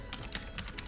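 Rapid keystrokes on a computer keyboard while typing a web address, four or five quick clustered clicks in under a second, close and fairly quiet over a soft room hum.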